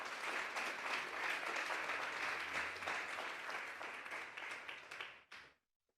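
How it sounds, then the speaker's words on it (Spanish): A church congregation claps together in dense, sustained applause during a Sunday service, a steady roar of hands lasting about five seconds before stopping abruptly. "Denle un fuerte aplauso pues al Señor."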